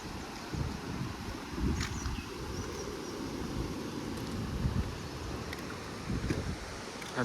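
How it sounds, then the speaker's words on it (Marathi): Strong wind gusts across an open countryside slope, a loud rumbling buffet on the microphone with faint rustling and occasional thumps, continuous and unbroken by talk. "वारा पण मस्त सुसाट सुटला आहे बघा."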